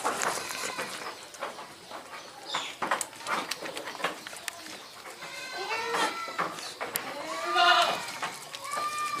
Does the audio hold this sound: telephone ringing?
no